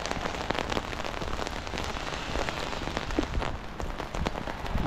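Light drizzle falls steadily outdoors during a walk, a dense even patter of small raindrops on surfaces with occasional sharper drips and no voices.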